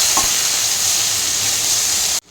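Garlic paste, tomato and coriander sauté in a hot pan for a Punjabi-style chicken curry, giving a loud, steady sizzle that stops abruptly at the end.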